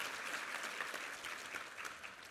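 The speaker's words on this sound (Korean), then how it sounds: "힘찬 격려의 박수 부탁합니다" A church congregation applauding the choir after a hymn, a dense, even wash of clapping from a crowd, steady and fairly distant, heard faintly for a couple of seconds.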